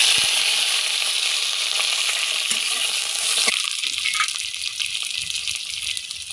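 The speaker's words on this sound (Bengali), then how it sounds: "এবার বেগুনগুলোকে ভেজে নিব।" Eggplant pieces fry in mustard oil, a loud, dense sizzle and crackle that flares sharply as they go into the pan, then settles into a steady frying hiss.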